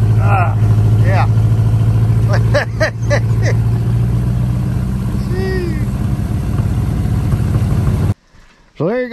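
A 1985 Ford Mustang GT, original and unmoved since 2001, idles with a steady low rumble that runs loud and close, with voices talking over it, before cutting out near the end.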